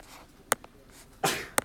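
A single person sneezes in a room, a short sharp burst set among faint clicks and small noises, with no talk.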